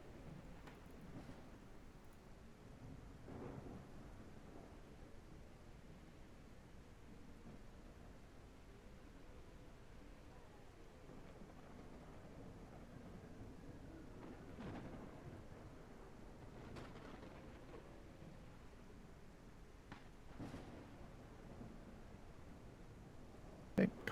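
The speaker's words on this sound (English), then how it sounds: "Oh, a big storm flowing through again." A thunderstorm rolls through the video game SurrounDead, with steady rain hiss and low rumbles of thunder swelling now and then. The sound stays faint and distant throughout.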